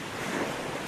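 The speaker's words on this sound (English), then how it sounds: "And then here we are in the main Holetown beach." Surf washes onto Holetown beach on the west coast of Barbados, a steady, broad roar of waves and wind, fairly loud and unbroken, with no voices.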